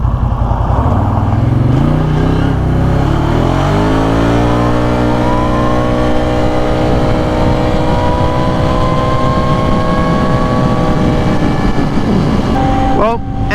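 A car passes close by, its engine note rising in pitch and then holding as it roars past, loud throughout before cutting off abruptly at the end.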